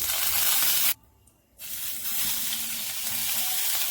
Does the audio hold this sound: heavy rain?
no